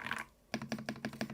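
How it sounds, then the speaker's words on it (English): A mechanical keyboard with unlubed switches is typed on, a short pause followed by a quick run of crisp, close key clacks at an even pace. "That sounds like an office keyboard."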